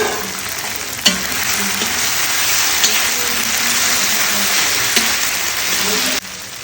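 Onion, tomato and garlic spice paste frying in a pan, a steady close sizzle with stirring that swells and holds for several seconds before dropping off near the end.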